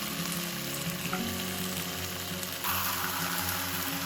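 Mutton pieces for a Kashmiri lamb rogan josh fry in a pan with a steady, loud sizzle that swells and brightens partway through as the meat settles into the hot fat, with no talking.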